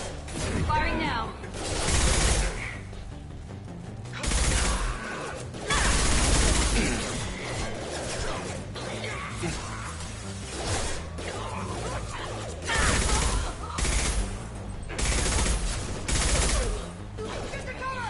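Weapons fire in the video game Mass Effect 2, with dense bursts of rapid gunshots in repeated volleys, loud and mixed with mechanical clatter and game effects.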